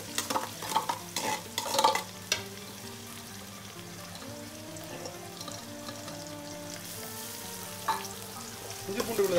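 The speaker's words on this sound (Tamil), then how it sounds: "ஸோ நம்ம வந்து இஞ்சி பூண்டு விழுத வந்து ஆட் பண்ணிக்கலாம்." Ginger garlic paste frying for mutton biryani gives a steady close sizzle in the pan, with several sharp stirring scrapes from a spoon across the length of the clip. Faint music plays underneath.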